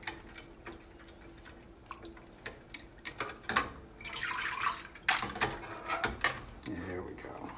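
Chocolate pasta being stirred in an ice water bath: scattered clinks and knocks with watery swishing, building into a louder sloshing stretch midway, close and fairly quiet.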